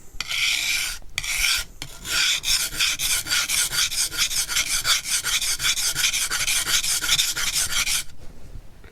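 A convex-bevel blade is worked vigorously on an oiled sharpening stone, giving a loud, steady rasping scrape that repeats in quick back-and-forth strokes close up after a couple of brief pauses.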